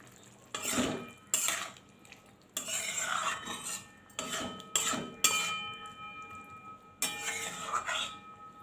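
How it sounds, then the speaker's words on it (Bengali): A spoon stirs grated raw mango and sugar into cooking watermelon rind, making a series of close scraping and clinking strokes against the pot, each a burst separated by short pauses, over a faint background sizzle. "এবার একটু চিনি দেব, খুব ভালো করে মিশিয়ে দেব।"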